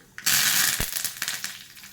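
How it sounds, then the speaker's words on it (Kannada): Mustard seeds and curry leaves hit hot oil for a tempering, a sudden loud crackling sizzle with a sharp pop, then quick spitting crackles that gradually ease off. "ಈಗ ಇದಕ್ಕೊಂದು ಒಗ್ಗರಣೆ ಕೊಡುವ"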